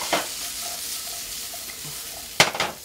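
Vegetables cook in a pan beside salmon with a soft continuous sizzle, broken by two sharp scrapes and clatters of a utensil stirring against the pan.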